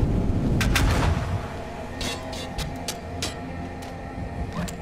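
Turret gunfire in the VR game Bonelab: a heavy burst at the start, then scattered sharp shots and clanks over a rumbling background, fairly loud and close.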